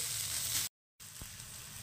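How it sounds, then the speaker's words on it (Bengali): Bitter gourd sizzles as it fries in a pan, a steady close hiss that cuts out briefly and then resumes, with a faint stir in between. "দেখুন বন্ধুরা, ভাজা ভাজা প্রায় হয়ে এসছে"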